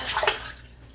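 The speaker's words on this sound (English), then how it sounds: "All you gotta do is plop them in a pot full of water" A whole chicken plops into a pot full of water in a home kitchen, giving a quick splash and slosh that settles into a fading watery gurgle.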